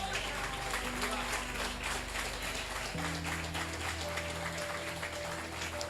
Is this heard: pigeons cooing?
no